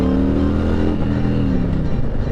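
A steady 2020 Harley-Davidson Street Glide Special motorcycle engine drones loudly throughout, with a low rumbling hum and continuous wind-like noise, as if riding at highway speed.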